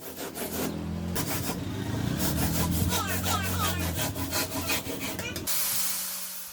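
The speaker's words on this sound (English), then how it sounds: "In marine work, sanding isn't just finishing, it's called fairing." Rough sanding or rasping on the hull of a boat built from a giant water tank, repeated scraping strokes in a steady back-and-forth rhythm, close and loud, ending abruptly into a quieter hiss.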